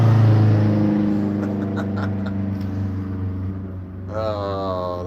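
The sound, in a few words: Subaru WRX car driving past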